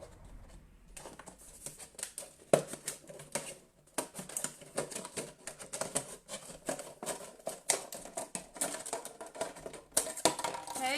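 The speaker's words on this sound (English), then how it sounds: "So to cut the bottle, literally just cut the top off." Scissors or a blade cutting the top off a plastic milk bottle, a string of close, faint crackling snips and plastic crinkles in an uneven rhythm.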